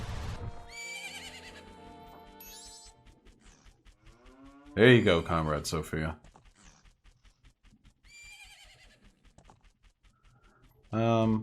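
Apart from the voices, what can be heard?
Epona horse neighing in Zelda Majora's Mask video game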